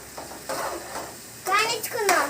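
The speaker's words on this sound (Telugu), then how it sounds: "ఉల్లిపాయను పచ్చిమిర్చి దీంట్లో వేసేసుకుందాం ఫ్రెండ్స్ మనం బాగా ఎర్రగా" Onions and green chillies fry in a pan, with soft sizzling and several short scraping stirs growing louder toward the end, while a person talks.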